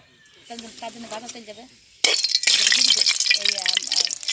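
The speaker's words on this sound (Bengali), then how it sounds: "এই যে আমার কড়াই গরম হয়ে গেছে, আমি তেলটা দিয়ে দিচ্ছি, সর্ষের তেল" Mustard oil goes into a hot kadai while a duck curry is being cooked, bursting into a loud, crackling sizzle partway through that then keeps hissing; a voice talks over the quieter start.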